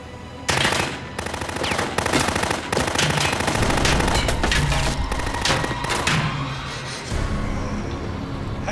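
Heavy gunfire in an action movie, a loud sustained barrage of automatic bursts and booming shots with brief gaps, close and intense, easing toward the end.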